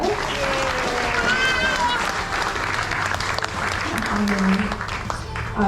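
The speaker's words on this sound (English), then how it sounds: "so give yourselves another round of applause." An audience at the Polynesian Cultural Center in Hawaii gives a round of applause after a hula performance, a steady wash of clapping with crowd noise and voices mixed in.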